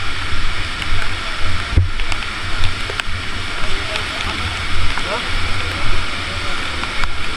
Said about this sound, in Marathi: हा बघा तो वसुंधरा वॉटरफॉल कसला भयानक दिसतोय.